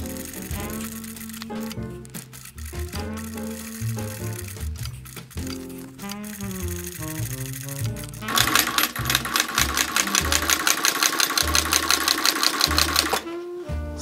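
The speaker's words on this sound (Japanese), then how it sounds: "バンプのライニングを縫い付けていきます。" A sewing machine stitches the vamp lining of a handmade bespoke leather shoe. Uneven start-stop stitching bursts give way to a fast, steady, loud rattling run near the end.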